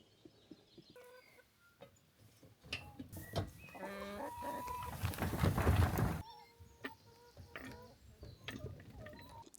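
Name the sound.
hens clucking near a hen coop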